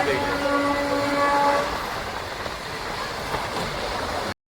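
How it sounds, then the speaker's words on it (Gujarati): A train pulls out of Upleta junction railway station, its horn sounding loudly at first, then giving way to a steady rumbling roll of the wagons close by. "ટ્રેન નીકળી ગઈ છે"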